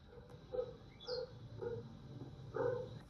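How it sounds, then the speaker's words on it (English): A dog barks inside a house in a few short, muffled bursts, moderately distant, with room noise between the barks. "you can hear the dog barking, right?"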